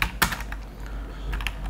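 Keys clatter on a computer keyboard as a command is typed into a terminal, a few close, distinct clicks with a couple of sharper strokes near the start and a short cluster near the end.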